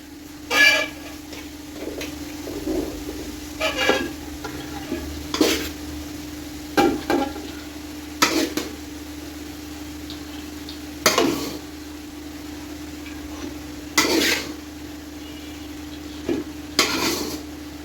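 Rice being stir-fried with lightly fried vegetables for Thai-style fried rice, with repeated sharp scraping and tossing strokes of a spatula every second or two over a steady sizzle and background hum, no talking.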